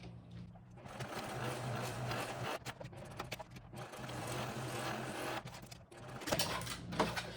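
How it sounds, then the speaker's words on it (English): Sewing machine stitching around an etched square on wax canvas for a backpack, a steady whirring run of stitches broken by brief pauses and restarts, close and moderately loud. "I'm going to go and sew just around the square that I etched into my wax canvas"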